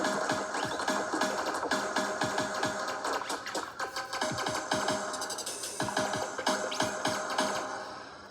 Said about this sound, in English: Just added this electronic dub kit thing that I've came up with